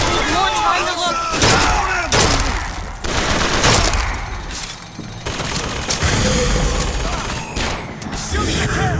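Gunfire in the first-person shooter BioShock Infinite: loud, repeated volleys of shots and slams in chaotic bursts, close and busy, with voices shouting over the battle.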